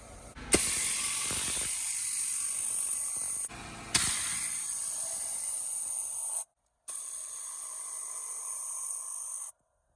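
An air blower blasting dust out of a car interior during a mobile detail, a loud, steady rushing hiss in three long bursts with short pauses between them, and no voices.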